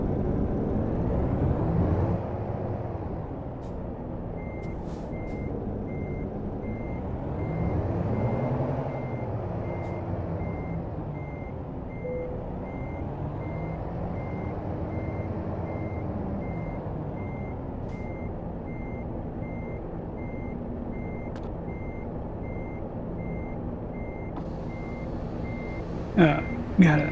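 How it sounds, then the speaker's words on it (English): A truck's reversing alarm beeps steadily at an even pace while backing a trailer in American Truck Simulator, over a constant low diesel engine rumble that swells and dips, with a couple of sharp clicks near the end. "I'm actually going to back the trailer right there so I can be headed more of a appropriate direction"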